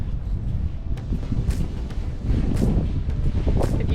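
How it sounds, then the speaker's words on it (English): Strong, gusty wind buffets the microphone at Singing Sands beach on the Bruce Peninsula, a steady low roar swelling louder in the second half with no voices. "Very windy."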